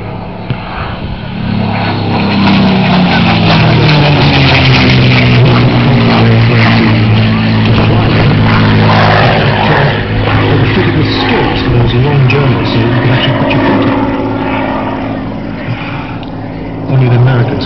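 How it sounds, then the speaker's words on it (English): A WWII fighter aircraft with a Merlin engine roars past at an autumn air show at Duxford, its engine drone loud and sustained, rising and falling as it flies by, while a commentator talks over it. "But of course this aircraft really transformed by the Merlin engine."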